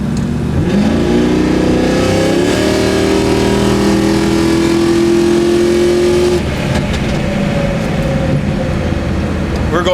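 A Camaro with an LS3 V8 and stepped-pipe exhaust pulls hard through the gears, its loud, close engine note climbing steadily in pitch before a shift and renewed acceleration.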